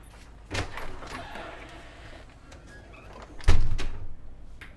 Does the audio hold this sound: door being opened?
yes